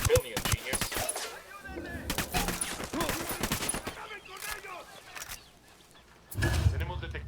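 Gunfire in the video game Ghost Recon Wildlands comes as clustered volleys of shots with irregular rhythm, some loud and near, mixed with game sounds and voices talking over it.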